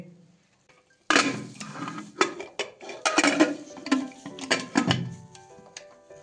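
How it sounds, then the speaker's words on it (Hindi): Metal clanks and clatters as a pressure cooker lid is fitted and pressed shut over Kashmiri rogan josh, a series of sharp knocks and scrapes following a brief quiet start. "और अब जो हमारा कुकर है इसको हम बंद करेंगे"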